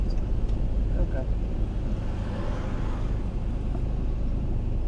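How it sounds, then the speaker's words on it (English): A car passes on a road near Blackpool as a steady, rumbling roadway drone, heard from inside a vehicle pulled to one side with its engine running. "There's a car behind me, so I'm just going to let this car pass in a minute"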